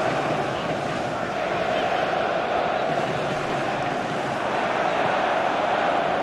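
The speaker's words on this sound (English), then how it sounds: "the crowd clearly liked what they just saw" A stadium crowd at a World Cup football match between South Korea and Bolivia roars steadily, a dense and loud wash of cheering that holds at an even level throughout without any break.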